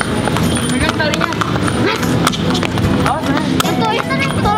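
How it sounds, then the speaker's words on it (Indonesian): A horse at a riding spot clops its hooves in quick uneven beats close by, mixed with lively conversation and background bustle. "Itu ada kudanya di sini juga."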